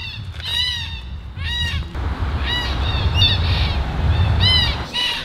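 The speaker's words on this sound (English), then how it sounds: "Birds, mate, they're ruining your intro." Birds on a golf course, loud squawking and harsh cawing calls repeating in bursts, close to the microphone over a low rumbling background.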